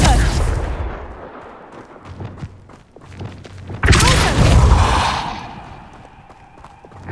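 Confringo fire-blast spell cast in Hogwarts Legacy: a sudden loud whooshing burst that blooms and rumbles for about a second before fading, following quieter thuds and rustling, with a voice shouting just before.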